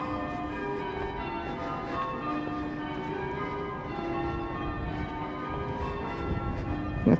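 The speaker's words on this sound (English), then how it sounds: "they like the bells in Chester" Church bells ringing in Chester, a sustained ringing with overlapping tones and a steady hum of resonance, moderately loud and continuous with no speech.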